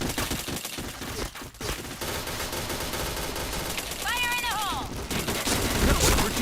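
Rapid gunfire from the shooter game Point Blank, dense bursts and volleys crackling continuously at close range, with game voice announcements and a short electronic tone sweep partway through.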